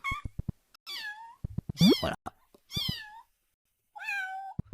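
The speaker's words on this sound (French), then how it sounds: "notre fameux chat qui miaule ici." A cat meows repeatedly in a Unity 2D game demo, five distinct rising and falling calls spaced by short silences, close and clear, with soft clicks between them.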